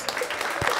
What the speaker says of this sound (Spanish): Fuerte el aplauso para chicos